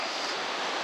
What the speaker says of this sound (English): I thought I heard water coming from somewhere. It's supposed to be a waterfall here